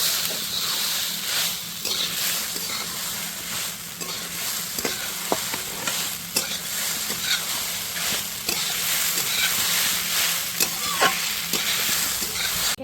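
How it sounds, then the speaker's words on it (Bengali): Sago pulao being stirred in a frying pan, with peanuts, fried potatoes and raisins mixed in, giving a steady close sizzle broken by repeated scraping strokes and clicks of the spatula against the pan, with no talking. "খুব ভালো করে মিশিয়ে নেবো"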